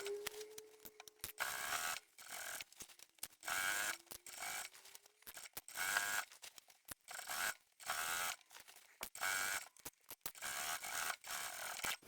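A sewing machine top stitches about 1/8 inch in from the edge of a lined fabric shopping tote, starting at the side seam. Close, rapid mechanical stitching runs in repeated bursts separated by short pauses, with no talking.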